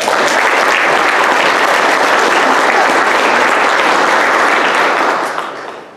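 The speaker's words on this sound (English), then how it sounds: "So a round of applause for Oliver." Loud, dense audience applause at a boys' soccer banquet, many hands clapping steadily and close for several seconds before tapering off at the end.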